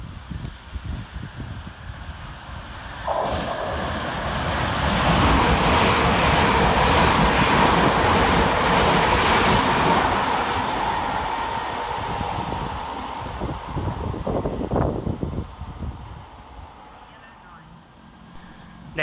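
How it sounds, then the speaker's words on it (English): Two coupled Class 350 electric trains roll through Stechford railway station, a loud broad rumble and rush that swells after a few seconds, holds steady, then fades with some wheel clatter near the end. "Trundling around the corner is 350-248 and 350-370, working 1 Whiskey 12 from Birmingham New Street to London Euston via Northampton."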